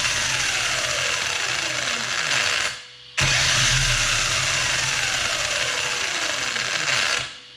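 An engine with a Perfect Pass installed revs hard at full throttle, its pitch climbing in a loud sustained run that drops off briefly and returns for a second full-throttle pull.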